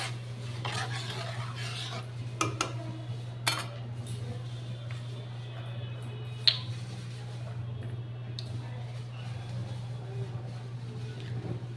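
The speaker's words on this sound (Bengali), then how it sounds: "মশলাটা এবার কষানো হবে।" A spoon scrapes and clinks in a pan while a spice paste with turmeric is stirred and fried, giving irregular metallic taps and scrapes over a steady low hum of a gas burner.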